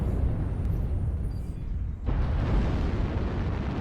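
In a mech combat video game, a missile explosion comes as a heavy, sustained rumbling roar with a second loud burst partway through, dense and booming throughout.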